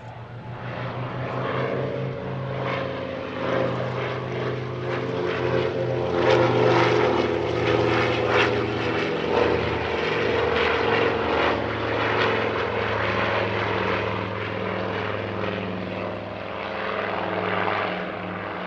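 A Nord Noratlas twin-engine military transport airplane flying past at an airshow near Paris, its piston engines and propellers droning loudly and steadily, the pulsing roar swelling and fading slightly without voices.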